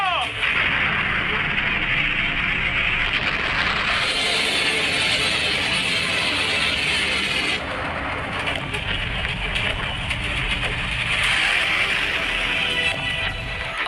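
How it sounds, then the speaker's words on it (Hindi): A dense, loud barrage of artillery fire in the Israel–Hezbollah war on southern Lebanon's hills, heavy rumbling blasts running together without pause, the intensity shifting in waves across the stretch. "इजरायली सेना के विमान और तोपखाने दक्षिणी लेबनान की पहाड़ियों को मलबे के ढेर में तब्दील कर रहे"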